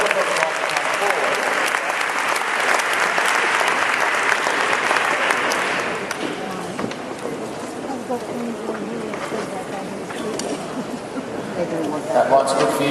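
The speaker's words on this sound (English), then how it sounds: "give our speakers a round of applause as they move back to their chairs" An audience at a public meeting claps loudly for several seconds, then the applause thins out and fades as a voice begins speaking.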